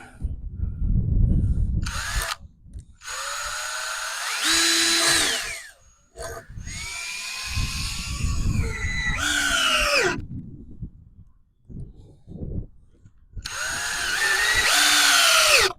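A power drill drives screws into a wooden horizontal beehive in several separate bursts, each a loud, close whine that rises in pitch, with short pauses and quieter handling noises between them.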